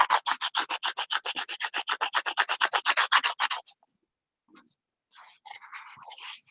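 Light strokes of 400 grit sandpaper rub over wood in a quick, even back-and-forth rhythm of about twenty close, crisp passes, then stop, followed by a few faint brushing sounds.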